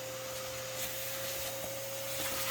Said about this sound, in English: Oh yeah, my vacuum isn't strong at all. It just pulled down like 10 layers of comb.